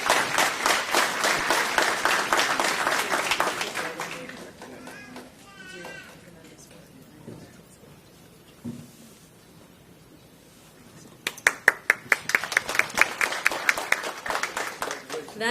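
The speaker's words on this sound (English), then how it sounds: "Investigator Minter, give him a round of applause." Audience applause at a DeKalb County public safety awards ceremony: a dense, loud burst of clapping opens, fades into a stretch of talk, then returns as sharp, scattered claps building into fuller applause.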